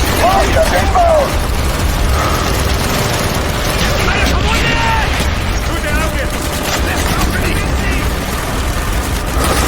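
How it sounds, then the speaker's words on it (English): Continuous heavy battlefield din of mortar blasts and gunfire in Call of Duty Black Ops, dense and loud throughout with rumbling low end and no clear gaps between impacts. "Mortar inbound!"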